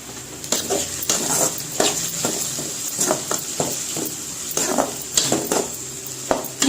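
Tomatoes tossed and stir-fried with pirandai for a chutney, with a spoon scraping and clinking against the pan in repeated strokes over a steady low sizzle, fairly close and without talk.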